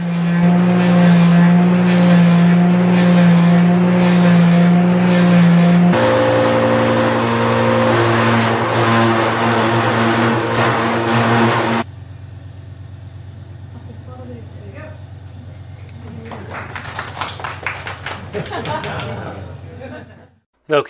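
A loud machine carves Dutch wooden shoes in a workshop demonstration, giving a steady whining drone that shifts pitch in stages before dropping to quieter scraping and rattling, with brief talk underneath.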